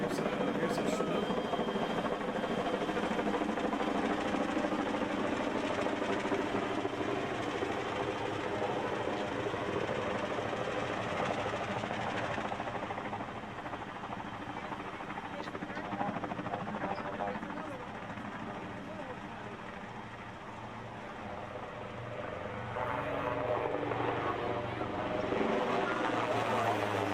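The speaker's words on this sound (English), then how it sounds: "Here's a Chinook." A Chinook helicopter flies nearby, its heavy rotor and engine roar steady and loud throughout, easing slightly midway before swelling again, with voices talking over it.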